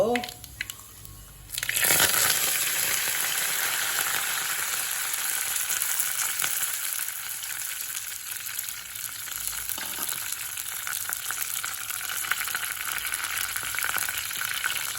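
Loud crackling and sizzling as curry leaves hit hot oil for a fish curry, a sudden burst after a brief quieter moment, then steady frying hiss continuing.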